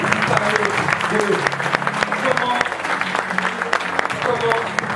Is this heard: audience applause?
yes